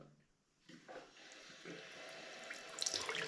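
Water runs from bathroom sink taps at a holiday park, starting after a short quiet moment and continuing as a steady, close splashing stream into the basin, growing slightly brighter toward the end.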